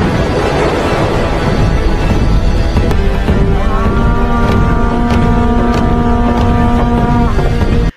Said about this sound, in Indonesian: akhirnya kapal induk yang dinaiki Wakisaka mulai berlayar maju ke depan